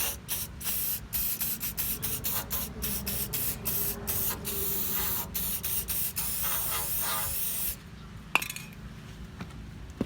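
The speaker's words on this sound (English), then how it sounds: "you want to spray inside" Aerosol cleaner sprays in long hissing bursts inside a truck's chrome exhaust tip, several close, loud blasts separated by short pauses, ending with a quieter stretch and a sharp click.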